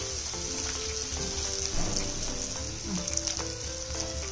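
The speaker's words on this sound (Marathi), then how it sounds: "लांबट कापलेला कांदा थोडा फ्राय व्हायला आल्यानंतर, गुलाबीसर झाल्यानंतर" Sliced onion fries in a pan, a continuous soft sizzle with light stirring scrapes and a few small pops, close and moderately quiet, with faint voices or tones behind.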